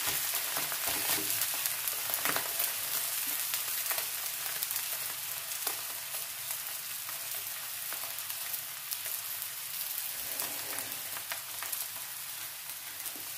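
Thattukada-style omelette frying in a pan, a steady crackling sizzle with scattered sharp pops and spits, continuous and close, with no voices.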